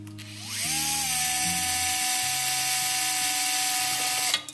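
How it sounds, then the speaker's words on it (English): A small drill with a 1/16 inch bit bores a wiring chase into a Polar Lights Round2 USS Discovery NCC 1031 plastic model kit. A steady high whine spins up, holds for about four seconds, then cuts off, close and alone. "And drill it."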